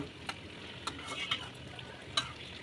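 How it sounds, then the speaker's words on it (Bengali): Spinach and egg being stirred in a cooking pan: a few faint, sparse scrapes and taps of a utensil over a soft, quiet background, with no talking. "হালকা করে নেড়ে চেড়ে নিব"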